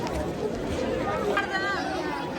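Dense crowd chatter fills the grounds of Prem Mandir temple in Vrindavan, a steady close hubbub of many overlapping voices with no single speaker standing out.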